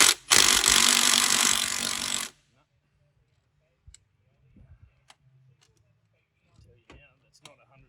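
A pneumatic impact wrench rattles hard on the crank bolt of a 1996 Toyota Hilux 2.8 diesel, a loud continuous burst of about two seconds, followed by quiet with scattered small clicks and faint talking.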